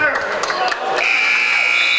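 End-of-game buzzer at a men's college basketball game between Wooster and Allegheny, a sustained electronic tone starting midway and holding to the end, heard amid arena crowd noise and commentator talk.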